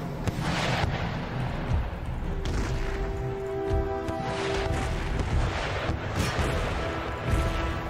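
Musket volleys from massed troops in the Empire: Total War video game, a dense rumbling barrage of overlapping shots and booms with a constant loud battle din.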